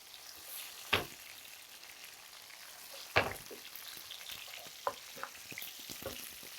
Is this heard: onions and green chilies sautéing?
yes